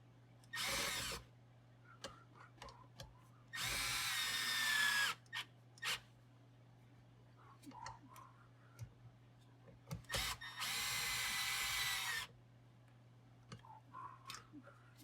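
A power drill drives screws while mounting a left-foot accelerator pedal, with three loud whirring bursts of about one to two seconds each, separated by clicks, handling noises and quiet pauses.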